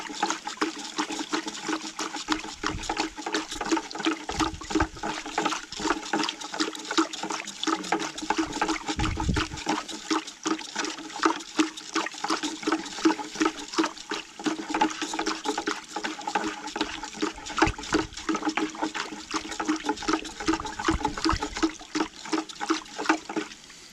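Deer meat is rinsed and dunked in water on an off-grid homestead before cold smoking. A steady, loud rush of splashing water carries on throughout, with a few low thumps early on.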